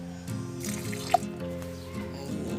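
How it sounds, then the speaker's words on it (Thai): Water is poured out of a glass in a short, gurgling stream with a few drips, close by and quiet, alone without talk. "เดี๋ยวเทน้ำออกก่อน"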